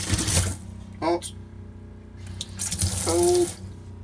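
Water runs from the tap into the sink of an Autocruise Wentworth motorhome in stunning condition, a broadband rush in short bursts, with someone speaking between and over the flow.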